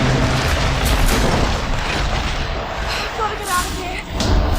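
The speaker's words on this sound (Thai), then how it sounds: "ไม่รอด ระเบิดแน่นอน" A loud explosion in the Tomb Raider video game, heard as a sustained, booming roar of noise that fills the whole stretch with rumbling blasts and debris.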